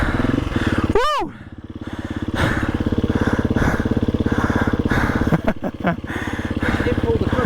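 A dirt motorcycle runs steadily at close range at an off-road riding school, its throbbing engine note continuous throughout, with a sharp rising-and-falling sweep near the start and some chatter and cheering over it.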